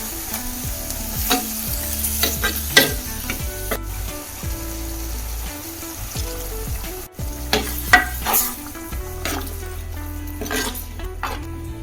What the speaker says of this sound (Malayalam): കറി നല്ലപോലെ തിളച്ചിട്ടുണ്ട്